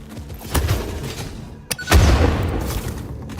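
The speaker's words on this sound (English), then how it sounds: "But they cannot handle 2 explosions." Two heavy booms go off in succession in the game Satisfactory, each a close, thudding blast with a rumbling tail, the second louder and longer.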